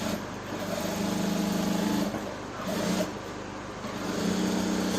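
A sewing machine stitches a curved pocket into suit-pattern English trousers, running in three short whirring bursts separated by brief pauses, fairly quiet and close.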